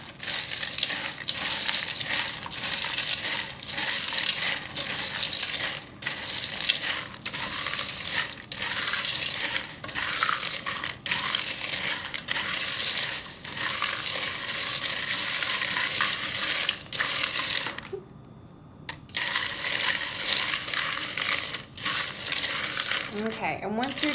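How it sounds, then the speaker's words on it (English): Pretzels being stirred with an oil mixture in a bowl, a steady loud crunching and rattling scrape that runs almost nonstop, with a brief pause near the end. "you're going to stir that really well so that the oil mixture will get all over the pretzels"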